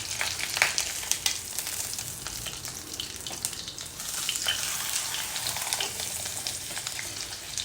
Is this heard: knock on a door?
no